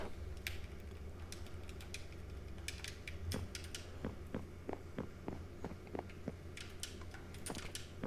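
A wooden door in Minecraft creaks repeatedly as it swings, a run of short sharp clicks and creaks in steady succession over a low constant background hum, with no talking.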